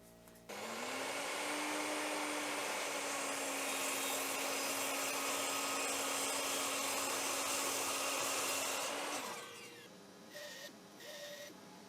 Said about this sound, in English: I'm going to be using my miter saw and my bandsaw to do that.